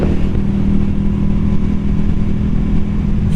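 A Yamaha V Star 250 motorcycle cruises on a back road, its engine holding a steady, loud drone with constant rumble and no talking.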